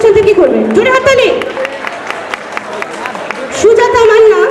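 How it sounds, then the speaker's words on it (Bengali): Loud applause from an audience at a college fest, with bursts of clapping and crowd chatter around an amplified voice speaking over a microphone. "জোরে হাততালি।"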